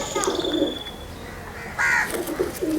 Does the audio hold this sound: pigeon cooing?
yes